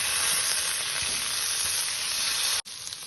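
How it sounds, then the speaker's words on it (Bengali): Masala-coated paneer pieces fry in a hot pan, a steady loud sizzle that cuts off abruptly near the end, followed by a quieter, fainter crackle. "এই পনিরগুলো ফ্রাই করে নেব।"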